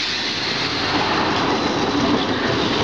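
A passenger train at Rangsit station in Thailand gives a steady, continuous rolling rumble with faint wheel clatter, close and fairly loud, with no voices.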